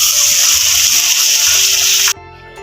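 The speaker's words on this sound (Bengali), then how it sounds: "আমি এক বাটির মতো জল এতে দিয়ে দেব।" A bowlful of water pours into a cooking pan of snake gourd with poppy seed paste, a loud, close, continuous splashing rush that stops abruptly after about two seconds.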